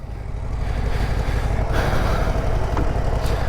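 A Harley-Davidson Low Rider ST motorcycle engine rumbles loud and close as the bike rides off, a low steady throbbing drone with no voices.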